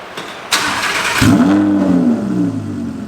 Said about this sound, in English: I'm gonna let the car run for 5 minutes without touching the gas